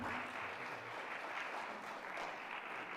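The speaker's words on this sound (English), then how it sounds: "Please give a round of applause to Keith Knutson." Sustained applause from a lecture audience welcoming a speaker on civil rights history, a dense, steady wash of many hands clapping at even loudness throughout, with no voices over it.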